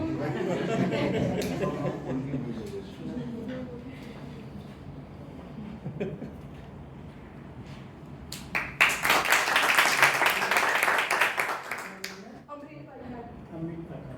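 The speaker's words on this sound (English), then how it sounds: "You have to clap, you have to go." Audience at a Toastmasters-style club meeting breaking into a short burst of clapping partway through, loud and close, with talk before and after it.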